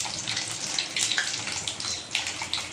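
Mustard seeds crackling in hot sesame oil for a Tamil vathal kulambu, a steady close hiss with dense sharp pops and spits continuing throughout.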